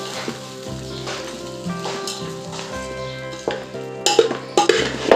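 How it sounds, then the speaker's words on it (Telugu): Lemon rice (pulihora) being stirred in a pan on the stove, with soft scraping and mixing noises, a few louder clinks and scrapes near the end, no voices. "మొత్తం కలగాల్సిలాగా కలిపేసి కలిపేసి మనం వేడి చేస్తాం"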